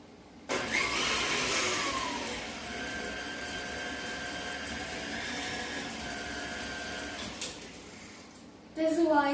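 An electric mixer whirs steadily as it blends batter with freshly added flour. A sharp start brings a sustained mid-pitched motor hum that holds evenly for several seconds, eases off, and is followed by a brief louder burst at the end.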